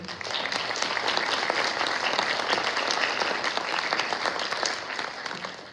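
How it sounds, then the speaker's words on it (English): A crowd at a middle school band concert applauds two students with sustained, dense clapping that holds a full, even level throughout before easing slightly at the very end. "Please give a round of applause for these two."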